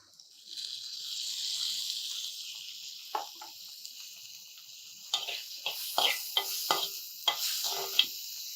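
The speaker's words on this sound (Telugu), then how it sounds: "దీంట్లోనే ఇప్పుడు కొంచెం టమాటో ముక్కలు వేసుకోండి." Tomato pieces go into a hot pan and hiss with a moderate sizzle, joined by a string of soft scraping stirs and light clinks toward the end.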